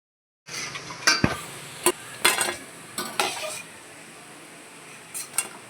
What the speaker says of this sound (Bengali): দেখো ভাজা হয়ে গেছে, কত সুন্দর লাল লাল করে ভেজেছি, মচমচেও হয়েছে